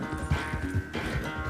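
Horse hooves clip-clop in Red Dead Redemption 2, a quick run of steady rhythmic steps heard near and fairly loud over a constant low background bed, with no one speaking.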